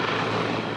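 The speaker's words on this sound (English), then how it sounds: "For a third day, police helicopters flew above Rivière-Éternité, searching for two people swept away by rushing waters" Police helicopters circle overhead above Rivière-Éternité during a search after flash flooding, a steady, dense rotor and engine roar at moderate distance filling the brief moment without voices.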